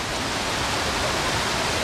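A waterfall on the Mount Tammany Trail gives a steady, broadband rushing hiss that fills the space evenly, constant and moderately loud with no voices.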